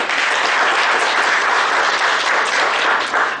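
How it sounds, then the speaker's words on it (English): Audience applause at the close of a training session on RBI expectations of statutory auditors of NBFCs, a dense, steady wash of many hands clapping throughout, with no speech over it. "Round of applause, ladies and gentlemen."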